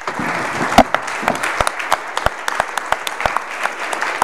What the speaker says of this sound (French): Je crois qu'on peut applaudir tous ces messieurs.